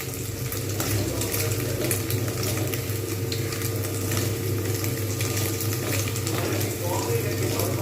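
Paneer cubes frying in hot oil give a steady, close sizzle with a soft crackle all the way through, and faint movement and stirring sit over the even hiss.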